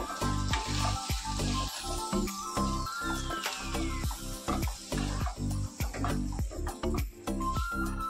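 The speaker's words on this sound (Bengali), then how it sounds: "জলটা দিয়ে আমি মশলাটাকে ভালোভাবে কষিয়ে নেব।" Spice paste cooks down in a pan with a splash of water, a loud close sizzle with rapid rhythmic stirring strokes that continue steadily.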